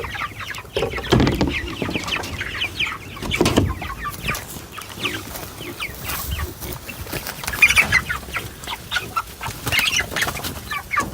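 Chickens in a chicken tractor crowd around a lowered feeder, clucking steadily and busily close by, with scattered bursts of wing flapping and scuffling among the birds.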